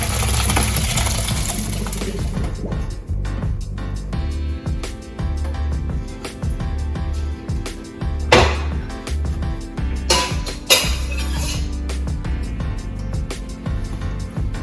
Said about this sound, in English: Get them off the stove, turn the burner off, then you want to drain them.